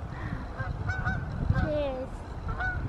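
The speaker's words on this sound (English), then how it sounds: "Look at those birds. Can you see them? Geese." Geese honking in a country park, several calls rising over a rumbling outdoor background, fairly close and clear, with a faint voice in places.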